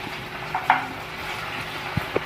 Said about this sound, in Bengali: এই যে এখন পকোড়া ভাজা চলছে, চিকেন পকোড়া ভাজা চলছে এখন।